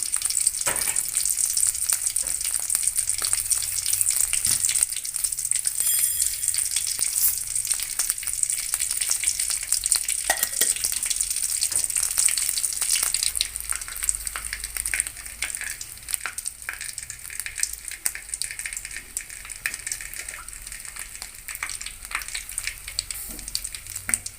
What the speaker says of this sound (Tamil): நல்லா எண்ணெய் சூடானதும் அதில் வந்து கடுகு உளுந்தம்பருப்பு சேர்த்துடலாம்